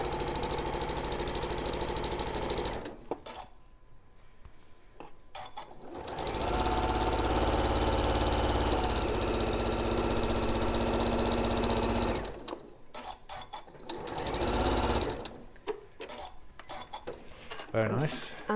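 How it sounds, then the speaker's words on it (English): A sewing machine stitches a quarter-inch seam straight through three quilt layers, running in long steady humming stretches with short pauses between them, and a voice talks over the gaps. "you're going to stitch 1/4 inch all the way down, straight through all those 3 layers"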